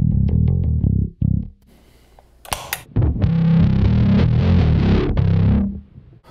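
A bass guitar played through a Bass Big Muff Pi distortion pedal gives loud, fuzzy, sustained distorted notes: a few short plucked phrases, a brief pause with scattered string noise, then a long thick sustained passage that fades out.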